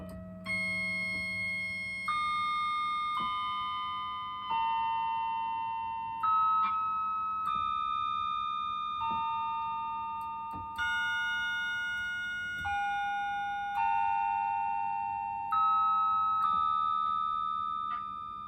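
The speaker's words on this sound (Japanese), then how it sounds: "プロフェット5の特徴的なね、ポリモジュレーションを使った鐘のようなサウンドですよね" A Prophet-5 analog synthesizer plays a bell-like poly-modulation preset, a sequence of clear metallic chime notes struck one after another, each ringing and decaying before the next, with no talking.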